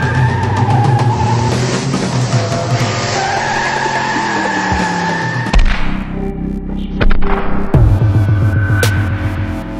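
A car pulls away hard with loud, sustained tire squeal and engine roar, then the noise breaks off into short bursts of skidding and revving near the end.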